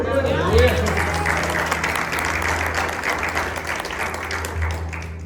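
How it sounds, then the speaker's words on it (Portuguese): Sustained applause from a large church congregation fills the space, a steady wash of clapping with a voice heard faintly at the start. "Você pode aplaudir o Senhor?"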